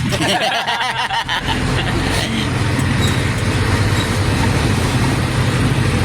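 Heavy road traffic of cars and buses in the Nueva Vizcaya, Cagayan Valley area, a constant loud, close rumble and roar of engines and tyres throughout.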